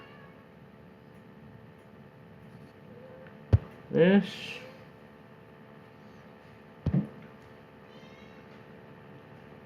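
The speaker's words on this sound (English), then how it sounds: "You might hear my cat comrade in the kitchen." A pet cat meows once in a kitchen, a short, clear cry that stands out from a quiet humming room, followed by a brief thump.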